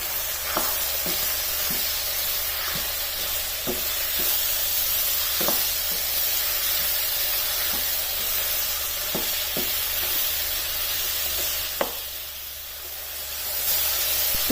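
Chopped medium tomatoes sizzle in oil in a pan while being stirred, a steady close hiss broken by irregular light scrapes and clicks of the spoon, with no talking.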